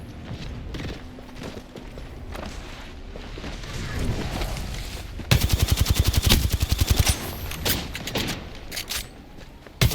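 Gunfire from Kraber and Volt weapons in a first-person shooter video game, with scattered shots and mechanical clicks early on, then a loud rapid automatic burst of evenly spaced shots, mixed with game effects.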